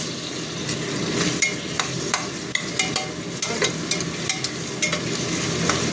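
Onion and tomato frying in a pan for mutton curry, a dense close sizzle broken by frequent spatula scrapes and clacks against the pan, steady and unaccompanied by speech.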